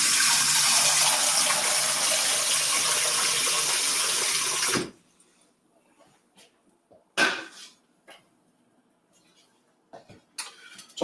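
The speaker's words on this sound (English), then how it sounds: "Let me also get some water going for my basil." Tap water runs hard and steady at close range for about five seconds, then cuts off, leaving quiet kitchen handling with a few sharp knocks and clatters.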